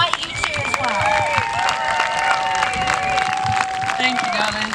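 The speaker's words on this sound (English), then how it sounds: "So I give her a round of applause and I invite you to as well." Crowd at a London street protest applauding a speaker, steady clapping with cheers and whistles mixed through a noisy outdoor crowd, close and continuous.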